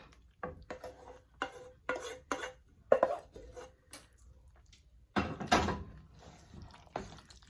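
Bow tie noodles stirred with sauce in a pot, a spoon knocking and scraping against the metal in irregular clatters, close and fairly loud, then a longer scraping stretch near the end.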